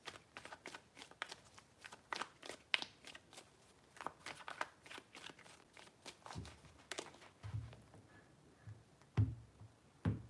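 Tarot cards are shuffled close by in a quick series of crisp riffling snaps and soft slides, three rounds of shuffling with short gaps between.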